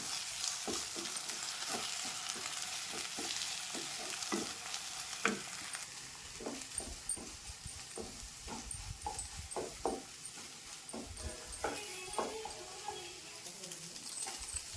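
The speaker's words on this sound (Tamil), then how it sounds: "இப்போ நல்லா கிளறி விடுவோம்." Egg stir-fry is stirred in a hot pan, a steady low sizzle under repeated scraping and tapping strokes from a spatula, close and fairly quiet.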